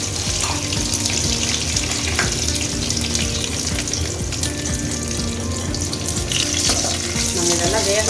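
Mustard seeds, fenugreek and curry leaves fry loudly in hot oil as a tempering for broad beans sambar, a dense, continuous close crackle and sizzle with faint clinks throughout.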